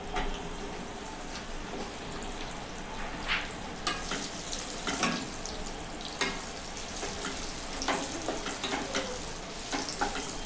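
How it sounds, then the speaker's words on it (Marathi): Okra pieces sizzle and crackle steadily in hot oil for a dhaba-style masala bhindi, with close spatters and occasional sharper pops over a continuous frying hiss, no talking. "आता तेल तापलंय आपलं, आता ह्याच्यात मी ही भेंडी टाकते।"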